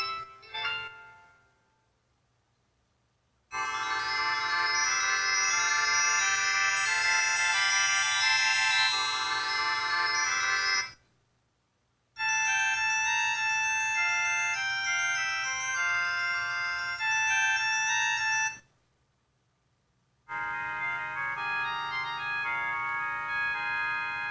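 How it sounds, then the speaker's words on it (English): A series of electronic notification chimes and melodic jingles from a G5 Sports smartwatch plays back one after another, separated by short silences, clear and fairly loud. "here's our notification tones"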